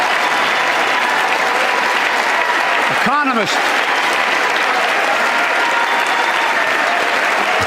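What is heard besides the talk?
crowd applauding and cheering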